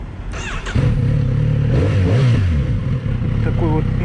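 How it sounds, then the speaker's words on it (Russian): A 2019 Kawasaki Z900RS motorcycle engine cranks and fires up, then settles into a loud, close idle with a couple of blips of the throttle rising and falling before dropping back. "Ну, давайте заведем его."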